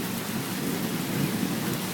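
Heavy rain pouring down during a summer storm, a dense, steady hiss close and loud, with low rumbling beneath and no voices.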